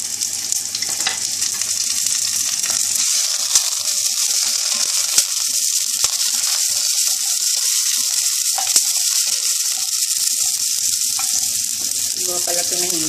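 Ginger and onion frying in a hot pan, a loud, bright, steady hiss of sizzling oil filling the whole stretch, close up, with faint crackles and small knocks underneath.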